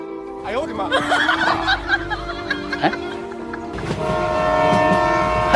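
A train rolls past with a long, loud horn blast, its steady rumble swelling toward the end, while people shout and laugh over it nearby in a village comedy scene.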